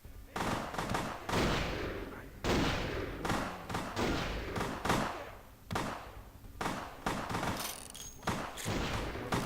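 Rapid bursts of gunfire in the video game Vampire: The Masquerade – Bloodlines, loud and repeated in quick volleys with brief gaps between them, continuing throughout.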